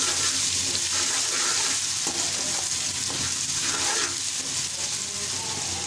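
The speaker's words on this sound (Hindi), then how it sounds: "उसके अंदर अभी हम डालेंगे प्याज, लहसुन अदरक का पेस्ट, थोड़ी देर इसको भूनेंगे।" Onion with garlic-ginger paste sizzles in a pan during aloo kofta preparation, a steady close frying hiss that runs continuously with no pauses or talk.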